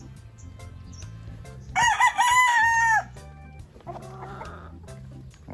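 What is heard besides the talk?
roosters crowing and clucking at a fighting-cock market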